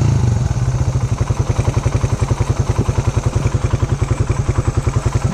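A motorcycle engine warming up idles with a steady, rapid low thumping pulse, loud and close, running alone without any talk.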